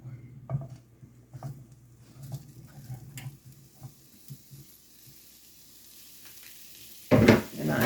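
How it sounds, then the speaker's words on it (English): Small cubes of sausage browning in a pan, giving a quiet, steady sizzle over a low hum, with a sudden louder burst of hissing spatter near the end. "I'm just going to brown these little cubes"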